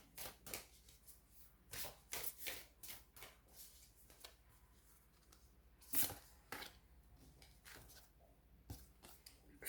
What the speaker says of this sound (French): allez, je prends une carte du lunologie